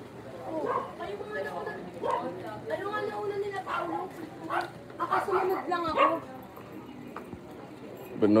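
A feeble dog in a Filipino neighbourhood gives short barks and whimpers, moderately close, mixed in among people talking over street background noise.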